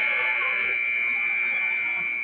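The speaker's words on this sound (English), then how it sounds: "and the buzzer sounds" End-of-game buzzer at a college hockey arena, Arizona versus Minot State, a loud sustained electronic tone holding steady over crowd noise, with an announcer talking over it.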